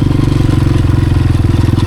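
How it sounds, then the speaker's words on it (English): Honda CRF 230F four-stroke dirt bike engine chugging loud and close, a steady low rapid thumping pulse with no let-up. "this is a 4-stroke, but this bike just chugs a lot more"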